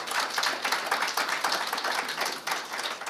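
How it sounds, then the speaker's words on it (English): An audience at a B-BBEE symposium gives a round of applause for the Deputy Minister of Planning and Monitoring in the Presidency. The dense clapping is steady and sustained, with no voices over it. "Can you give him a round of applause?"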